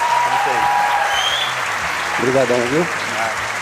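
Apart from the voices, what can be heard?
church audience applause for Rafael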